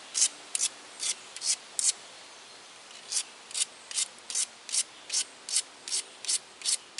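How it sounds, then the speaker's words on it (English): A tiger chert flint flake is ground along its edge in short, regular abrasive scrapes, a few spaced strokes followed by a quicker run of rhythmic rasping passes, close and fairly loud with no talking. "When you're grinding, this is when all the dust comes off"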